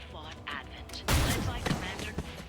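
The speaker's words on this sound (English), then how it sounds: "can I still fire my weapon?" Weapon fire in a video game training exercise, a loud broadband burst of shots with a few following pops over a couple of seconds, heard alongside game background sound and some voice.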